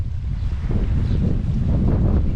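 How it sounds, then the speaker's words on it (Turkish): Steady wind blowing hard across the microphone at the seaside, a continuous low rumbling roar with no pauses. "Ama rüzgar bu taraftan esiyor."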